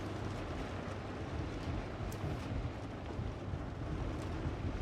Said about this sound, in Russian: такое маленькое стекло заливает дождем, дворников нет